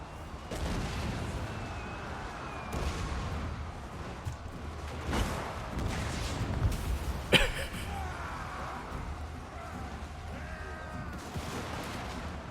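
Cannons fire in a Warhammer 2: Total War battle, a dense, continuous barrage of booms and blasts over a steady roar of battlefield noise, with one sharper crack standing out midway.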